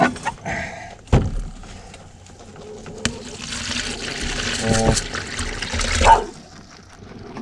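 Water gushes and trickles into a container as it is drawn at a village garden, a steady close splashing flow broken by a couple of knocks and clanks, with brief voices around it.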